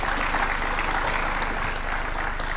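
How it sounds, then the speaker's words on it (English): Audience applause at a university event in Nairobi honouring the Chancellor, a dense, steady wash of clapping that holds at an even level throughout. "Another round of applause for the Chancellor"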